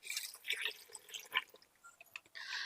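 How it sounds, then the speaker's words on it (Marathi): Water poured over washed potatoes in a pressure cooker, with short splashy drips and trickles coming and going close by, quiet overall and with no one talking. "बटाटे पूर्णपणे पाण्यात बुडतील इतपत यामध्ये पाणी ओतून घ्यायचं"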